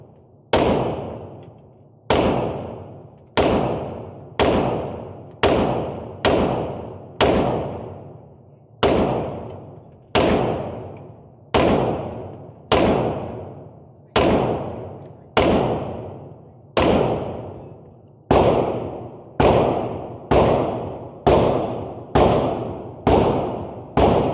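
Suppressed shots from a silenced gun, billed as the quietest ever, fire one after another as about twenty sharp reports at uneven intervals, each a crisp crack followed by a quick decay, loud and close, with no talk.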